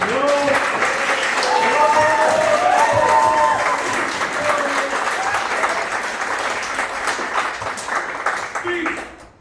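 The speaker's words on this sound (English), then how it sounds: "Can we please have another round of applause for" Wedding guests applaud during the speeches, dense clapping from a sizeable crowd that swells and then gradually fades, with voices talking and cheering underneath.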